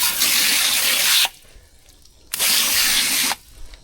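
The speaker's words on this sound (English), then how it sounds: "since I got the little pressure washer here" A small pressure washer spraying and rinsing a grimy 1994 Ranger bass boat, two loud close bursts of hissing spray about a second each separated by a short pause.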